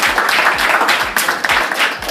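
Middle school audience clapping in a school presentation, a quick run of sharp claps with steady crowd applause underneath, fairly close and loud.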